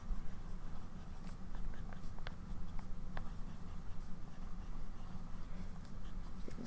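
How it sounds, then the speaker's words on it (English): A medium-nib M605 fountain pen writes on paper with ink, making a soft, continuous close-up scratching with small strokes and flicks. It runs steadily over faint room noise, with no talking. "I'm just going to write white transparent, and this is a medium nib."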